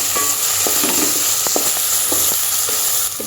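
Curry leaves and turmeric sizzle hard in hot oil for a village-style drumstick horse-gram curry, a loud, continuous crackling hiss broken by scattered sharp pops and a few light stirring clicks, with no voices.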